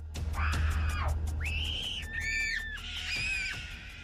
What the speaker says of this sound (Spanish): Y los dos gritaban al mismo tiempo, como si alguien quisiera matarlos.